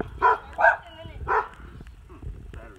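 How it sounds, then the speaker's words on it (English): Several sharp dog barks in quick succession, fairly close, followed by quieter whines and yips. "Look at these two dogs barking at me back here."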